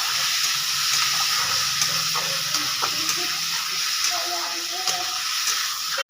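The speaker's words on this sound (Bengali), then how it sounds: "তেলটা এবার গরম হয়ে গেছে, এবার মাংসটা তেলের ওপর দিয়ে দাও" Pieces of meat fry in hot oil, stirred in the pan, giving a steady close sizzle with scattered scraping clinks from the spoon throughout.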